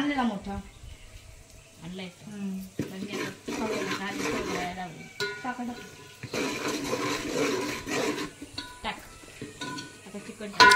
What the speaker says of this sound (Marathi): अशी वेगवेगळ्या प्रकारच्या मसाल्यांची फोडणी आपण देतोय